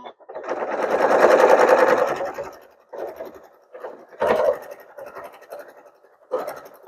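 Domestic sewing machine stitching a seam through fabric strips and quilt batting for a pillow, a steady whirring run that stops and restarts in shorter bursts, close and fairly loud, with no talking.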